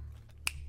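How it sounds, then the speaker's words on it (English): A single crisp finger snap, close and clean, standing alone over a low steady background hum. "finger snaps."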